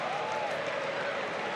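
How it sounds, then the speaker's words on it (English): Rugby league crowd at a Super League match between Catalans and St Helens, St Helens fans singing amid the steady roar of a large stadium audience, a continuous dense wash of voices at moderate distance. "You can hear the St Helens fans singing and the expectant crowd"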